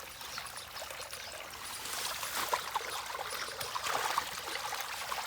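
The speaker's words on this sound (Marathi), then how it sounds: "एवढं पाणी येत आहे नाही मोटर चालू आहे." Water gushes steadily from a running motor pump on a farm field, a continuous rushing pour that swells slightly louder midway and holds on without pause.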